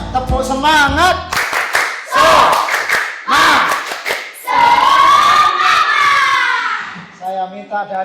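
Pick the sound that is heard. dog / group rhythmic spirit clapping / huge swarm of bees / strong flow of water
group rhythmic spirit clapping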